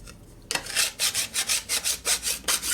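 Rhythmic back-and-forth scraping strokes on a metal edge of a chopper motorcycle part, about a dozen evenly spaced passes after a sharp start, loud and close with no talk.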